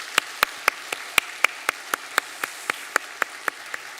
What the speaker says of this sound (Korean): 우리 귀한 두 가정 등록해 주셨는데 박수로 환영하겠습니다